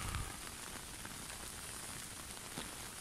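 Rain falls steadily during a fishing session in wet, stormy weather, making a soft, even patter and hiss on nearby surfaces that stays faint and unbroken throughout.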